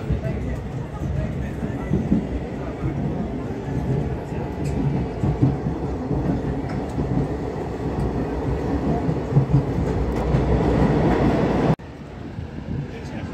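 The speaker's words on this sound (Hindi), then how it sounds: "ये है श्रीनगर का रेलवे स्टेशन। ये जो ट्रेन है बनिहाल से लेके बड़गाम तक जाती है" A train at the railway station in Srinagar, on the line running from Banihal to Budgam, gives a steady loud rumble that stays close for most of the stretch before easing slightly near the end, with faint crowd murmur underneath.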